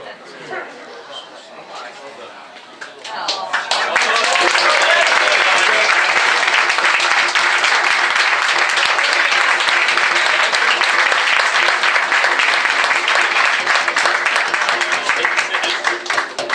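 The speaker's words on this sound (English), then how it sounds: "That is a very deserved round of applause." A crowd at a football club presentation evening breaks into a long, sustained round of applause, starting with quieter clapping and swelling into steady, loud, dense clapping that carries on without a break.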